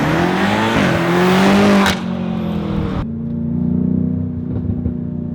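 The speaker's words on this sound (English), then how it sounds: "Listen to this exhaust." BMW M5 Competition with its exhaust roaring as it accelerates, the engine note climbing loudly, then dropping sharply at a gear shift before building again; close and powerful, with no talking.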